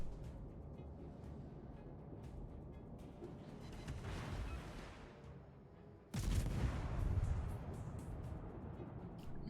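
Naval gunfire in World of Warships, aimed at a German Z-31 destroyer, comes as muffled booms and rumbling salvos, quiet overall, with a sharper blast midway.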